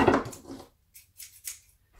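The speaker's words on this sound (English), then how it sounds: "we're just going to cut that off" Scissors cut through folded paper while a fortune teller is made, a loud close snip followed by quiet pause and three short, crisp snipping and rustling bursts.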